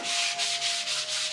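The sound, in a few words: hand sanding wood with 220 grit sandpaper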